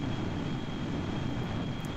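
Aircraft engines in the video game Kerbal Space Program, a steady, even engine roar that holds constant with no talk over it.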